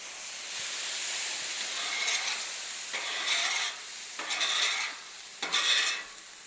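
Water hits a hot griddle and hisses loudly while a scraper works across the surface, with several surging bursts of steamy sizzle and scraping strokes up close.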